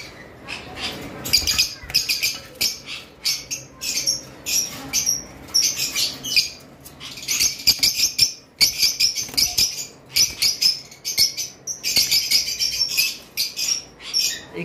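Caged lovebirds at a bird seller's collection chirping and squawking in rapid, overlapping bursts, close and lively, with someone talking at times underneath.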